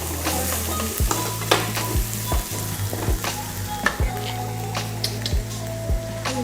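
Onions sautéing in a pan, a loud continuous sizzle with repeated spatula scrapes and knocks every second or so, close up with no voices.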